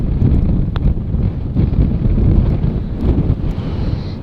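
Wind gusts across Newquay Golf Club's course, buffeting the microphone in a steady, loud, low roar that rises and falls slightly throughout, with no talking.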